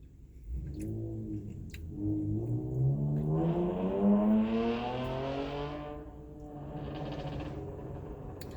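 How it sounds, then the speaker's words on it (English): A car engine with its muffler removed revs up loudly, rising in pitch to a raw, rasping peak, then falls away, followed by a second, shorter rev from some distance. "I think he just took off his muffler. That's why it sounds like that."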